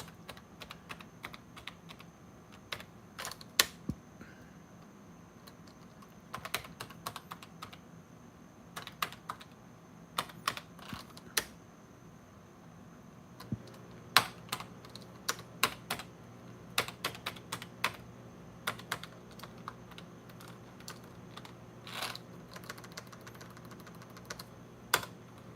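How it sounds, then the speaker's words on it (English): Typing on the keyboard of a PowerBook 140 laptop during a live repair session: irregular bursts of sharp key clicks at close range over a low steady electrical hum, with no talking. "That's one way to test your keyboard."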